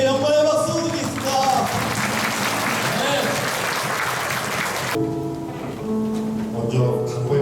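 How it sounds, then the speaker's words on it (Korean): A congregation at an outdoor joint church service in Seoul claps loudly and steadily for about five seconds before the applause stops and soft music continues. "주님께 영광의 박수 드리겠습니다"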